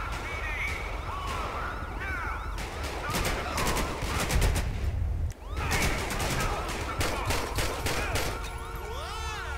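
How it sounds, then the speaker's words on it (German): Rapid gunfire crackles through a Grand Theft Auto 5 police-mod scene, with bursts and volleys of shots layered over sirens and alarm tones, loud and continuous through the stretch with a brief dip midway. "Weitere Schüsse von wo?"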